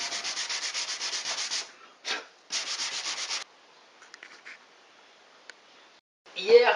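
Sanding a wood repair on a bathroom cabinet: quick, rhythmic back-and-forth strokes in two close bursts, then a quiet stretch with a few faint scrapes and a short noise at the end.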